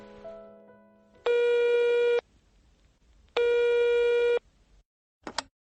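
A telephone call tone on a line to San Francisco: two long, loud, steady tone bursts about a second each with a gap between, followed by a short faint click.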